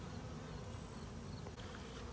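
Honey bees buzz steadily from an opened, strongly populated hive during a colony inspection, a dense close hum holding constant throughout with no talking.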